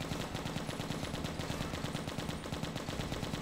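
Rapid machine gun fire in the zombie shooter game Left to Survive, a dense, evenly spaced burst of shots that continues unbroken and loud throughout.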